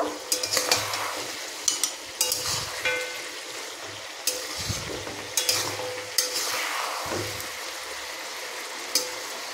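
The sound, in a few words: stirring mutton curry in a cooking pot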